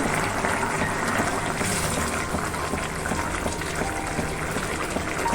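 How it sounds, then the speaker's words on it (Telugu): Water poured from a vessel onto pumpkin pieces in a cooking pot, making a steady, continuous splashing and gushing wash that stays loud and close throughout with no talk. "ఉప్పు కారంలో మగ్గిన తర్వాత గుమ్మడికాయ ముక్కల్లో వాటర్ పోసుకోవాలి"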